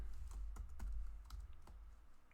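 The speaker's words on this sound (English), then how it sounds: "So we type our deficiency into here." Someone types on a computer keyboard while filling in a facility inspection report, producing a quick, quiet run of close, crisp key taps.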